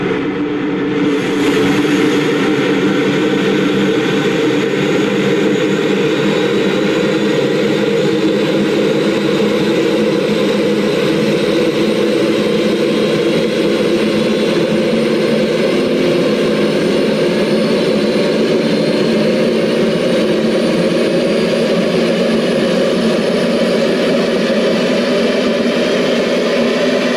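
A Concorde jet engine spools up in the X-Plane flight simulator, a loud, continuous roar with a rising whine that builds in the first seconds and then holds steady, heard alone without talk.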